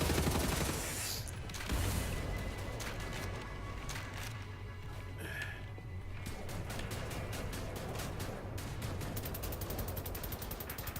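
Sustained bursts of rapid gunfire from the video game Wolfenstein: The New Order, with dense volleys of shots running throughout at a fairly steady, moderate level.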